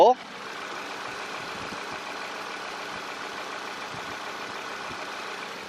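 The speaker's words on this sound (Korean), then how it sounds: "바로 엔진 소리 한번 들려드릴게요" A Genesis The All-New G80 AWD engine idles steadily and evenly, a smooth low rumble close by that holds constant for several seconds after a brief opening noise.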